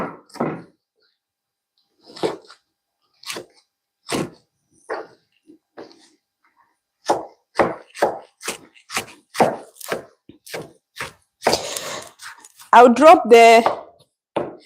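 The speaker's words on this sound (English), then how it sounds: "So I'm going to cut up my bacon into small pieces." A knife chops bacon into small pieces on a board in a home kitchen, with sharp separate knocks spaced out, then faster and louder strikes near the end, while a person talks briefly.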